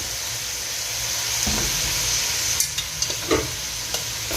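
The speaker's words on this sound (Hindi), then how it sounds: "चिकन को थोड़ा सा गोल्डन होने तक पकाएंगे मीडियम फ्लेम पे" Chicken pieces fry in a karahi over a medium flame with a steady sizzle, while a spoon scrapes and stirs in a few sharp clinks and knocks toward the end.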